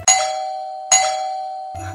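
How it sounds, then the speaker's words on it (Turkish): A doorbell rings twice, each a bright electronic chime that rings on and slowly fades, with a third tone starting at the end. "Zil çaldı."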